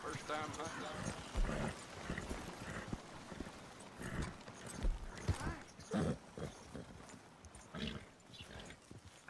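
In Red Dead Redemption 2, horse hooves clip-clop in an irregular rhythm, mixed with other game sounds and heard under a voice talking.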